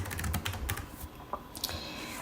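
Keys clatter on a computer keyboard as a word is typed, a quick run of crisp taps followed by a few sparser strokes, close and without talk.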